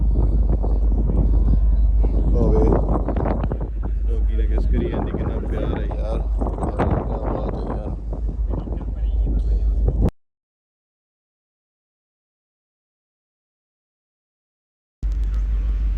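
Strong wind roars across the deck of a ferry sailing from Surrey to Victoria, a loud continuous rumble with a voice talking over it, then it cuts to silence for about five seconds before the wind returns.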